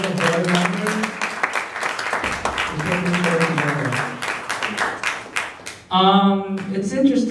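An audience at a student association's annual talent formal claps for volunteers and board members; dense clapping runs under voices speaking in the hall.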